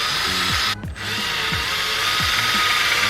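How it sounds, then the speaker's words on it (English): Power drill boring shallow screw holes into the back of a wooden floating shelf, loud whirring bursts with short stops and restarts, no talking. "I'm not drilling it all the way because I just wanna make a little hole for the screw to kind of have something to hold on to"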